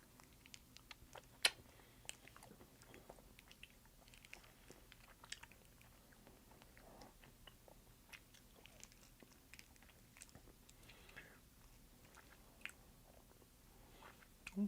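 Sour Kids sour candy chewed close up: faint, steady soft chewing and occasional crunchy bites with small clicks, quiet overall and with no talking.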